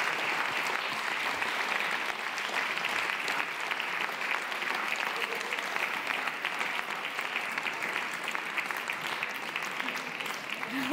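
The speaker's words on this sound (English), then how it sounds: "Please give them a warm applause." Audience applause for the panelists at a closing ceremony, a dense, steady clapping from a sizeable crowd that carries on evenly for the whole stretch without letting up.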